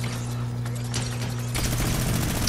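Gunfire in the Fortnite video game, a loud burst of rapid shots that grows denser and harsher partway through, heard without talk.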